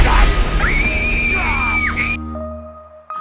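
Girl screaming in a horror film scene from The Conjuring 2: a loud, sustained high-pitched scream rising and wavering for about two seconds over a dense, rumbling soundtrack, then cutting off abruptly to leave a low hum.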